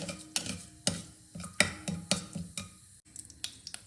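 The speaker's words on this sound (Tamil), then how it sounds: "இப்போ கடுகு நல்லா பொரிஞ்சிருச்சு" Sharp crackling pops of half a teaspoon of mustard seeds spluttering in hot oil, irregular bursts close by, with no talking.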